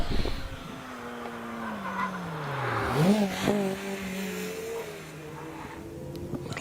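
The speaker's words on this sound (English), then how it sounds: "Zoe out of Farmhouse in the Lotus Exige." A Lotus Exige race car climbs a hillclimb course, its engine note rising and falling through gear changes as it passes fairly close, revving hard, with a commentator talking over it.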